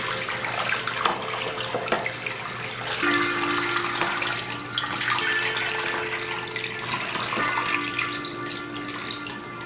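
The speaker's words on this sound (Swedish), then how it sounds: "Fyll på med en kanna kallt vatten." Cold water poured from a jug into a tank of ice, a steady close splashing and gurgling stream running throughout, with faint tones ringing beneath.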